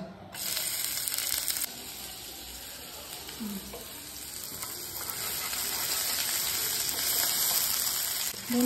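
Chopped onions sizzle steadily in hot oil in a pan while a vegetable Maggi is being made, a loud, continuous frying hiss with a few light stirring knocks.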